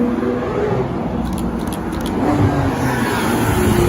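A car engine hums at low speed, rolling slowly past nearby over a village road with speed bumps, with a gentle rise in loudness and a faint background whine.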